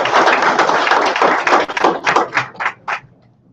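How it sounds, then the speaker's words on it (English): An audience at a career and technical education signing day claps, starting as dense applause and thinning into a few scattered, sharper claps that fade out. "let's give Miss Nikki Burns a round of applause"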